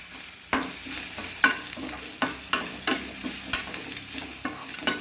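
Grated coconut being sautéed in a pan for kara chutney, with about ten distinct scraping stirs of a spatula landing at a steady rhythm over a soft, constant frying hiss. Close by, and no one speaks.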